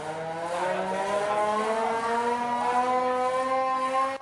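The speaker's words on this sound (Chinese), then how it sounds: "用手大力个摇，就发出警报声。" Hand-cranked antique fire siren at a fire museum in Hsinchu winds out a steady, loud, rising and falling wail that holds for several seconds without pause.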